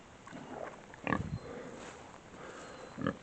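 Nearby, a farm pig gives a couple of short, low grunts and oinks, separated by a soft snuffling background, with no one talking.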